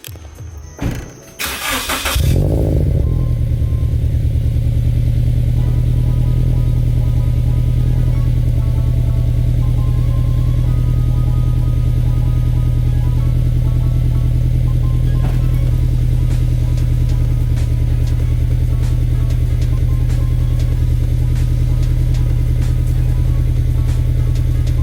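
A Subaru BRZ/FRS car engine with no exhaust headers fitted cranks and catches, then settles into a loud, steady, rough idle that drones on close by without voices.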